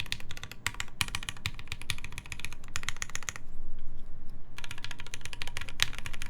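Mechanical keyboard keys with a hollow sound on the backspace side are typed in quick bursts of close clicking, broken by a short pause and then more rapid keystrokes.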